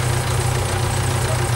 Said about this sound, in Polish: Bardzo cicha praca tego czterocylindrowego silnika.